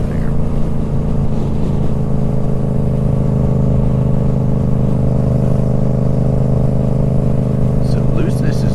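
A motorcycle engine drones loud and close throughout as the bike leans through curves, a steady rumbling hum under heavy wind buffeting with no clear change in pace.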